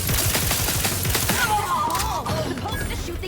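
Gunfire in a combat fight from The Outer Worlds 2, set at the Monastery: dense, rapid bursts of shots with mechanical clatter, loud and continuous throughout, with a few whistling tones weaving through the middle.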